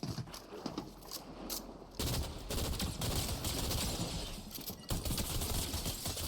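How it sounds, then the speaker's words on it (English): Shotgun fire in a video game: loud repeated blasts and rapid volleys under busy mechanical clatter, dense and close, with sharp onsets marking new bursts. "Whoa, that was a shotgun."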